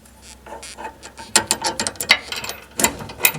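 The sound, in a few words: ratchet tightening tow hook bolt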